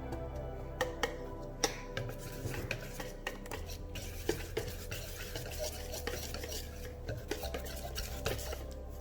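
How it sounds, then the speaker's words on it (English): Whisk clicks and scrapes quickly against a bowl while mixing crepe batter with oil, a fast close rhythm of light metallic ticks without talking. "Now I gotta whisk that together"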